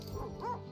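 Dogs in The Red Lantern video game let out a brief, quiet yip and whimpering bark, a single short canine vocalization close up with a faint tonal whine.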